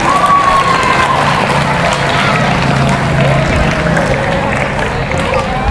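A group of children applaud loudly at a gathering with a religious teacher, dense continuous clapping mixed with chatter and shouts, with a voice briefly heard through a microphone.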